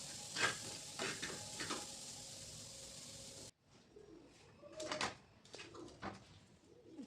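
Spices being stirred and mixed for a cauliflower paratha filling, with scraping, rustling mixing strokes that come in several bursts and break off sharply midway. A faint hiss continues in the background.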